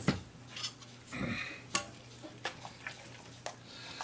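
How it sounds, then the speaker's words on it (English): A spoon scrapes and clinks against a pot while a cheese mixture is stirred, giving a few separate close taps and scrapes over a quiet background. "Now then I'll just mix it up."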